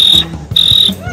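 A person's voice imitates a cricket with two long, shrill, steady chirping trills separated by a short pause, close and clear.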